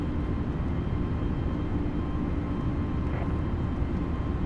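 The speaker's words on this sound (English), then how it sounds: "Flaps up, aircraft now accelerating." An airliner accelerates after takeoff with its flaps up, giving off a loud, continuous, broad roar that stays level from start to finish.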